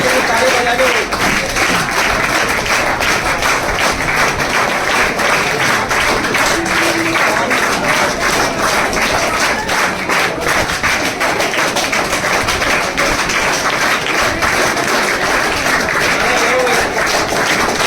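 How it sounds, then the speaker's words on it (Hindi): An audience at an award ceremony honoring newly selected Agniveer army recruits claps continuously for nearly eighteen seconds, a loud, even, close patter of many hands with no pauses, and a few voices blend into the background. "ताली बजा दो।"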